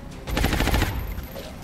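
Gunfire in XCOM Long War, a rapid burst of automatic shots rattling loudly for about half a second, then trailing off into quieter echoes.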